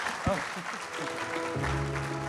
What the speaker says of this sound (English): join me with a round of applause for Mr. Yeo